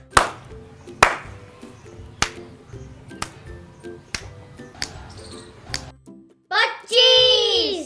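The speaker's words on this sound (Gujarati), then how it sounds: "તાળી અને ચપટી અમે વગાડીશું" Single hand claps and finger snaps sound one after another in a classroom counting game, sharp, close and irregularly spaced, followed by a voice speaking at the end.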